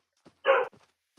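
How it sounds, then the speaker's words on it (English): A dog in a Minecraft game gives a single short bark, clear and close, with a few faint small noises around it and no talking. "Oh, that's your dog."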